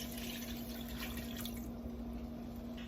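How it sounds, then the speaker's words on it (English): Leftover beef stock is poured over beef stew ingredients in a pot as a steady, continuous liquid rush, with a low constant hum underneath. "this is my leftover beef stock, and that's going to go right on top"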